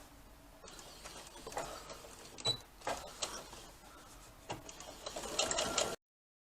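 A sewing machine runs in bursts while top stitching along the fabric brims of a bucket hat, about a quarter inch from the edge on stitch setting 4, with a steady mechanical whir and several brief louder clicks close by.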